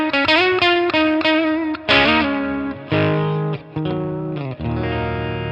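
Electric guitar through a Line 6 Catalyst amp on a boosted clean tone with reduced reverb plays a quick run of picked notes and chords, loud and close, with brief gaps between phrases and no talking.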